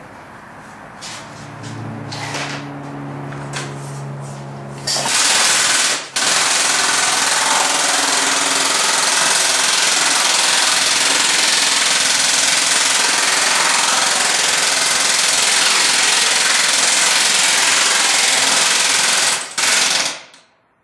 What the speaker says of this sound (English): Let's go to the air hammer.